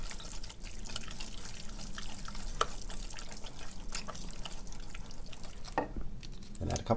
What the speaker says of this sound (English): just going to add a couple cubes at a time until it's all melted in